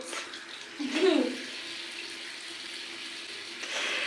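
Tap water running steadily into a basin, with a brief splashy swell near the start; moderately loud and continuous.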